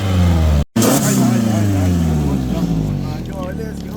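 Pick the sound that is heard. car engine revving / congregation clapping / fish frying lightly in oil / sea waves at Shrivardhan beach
car engine revving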